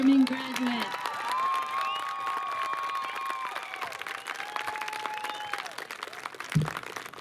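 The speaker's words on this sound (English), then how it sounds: "Let's give one last big round of applause for all of our forming graduates." Applause for graduates at a 2021 senior graduation ceremony, a dense, steady wash of clapping from a large crowd that fills the whole stretch, with whistles and scattered cheers rising over it.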